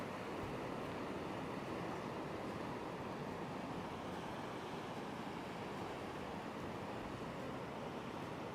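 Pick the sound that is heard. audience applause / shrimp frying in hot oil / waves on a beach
waves on a beach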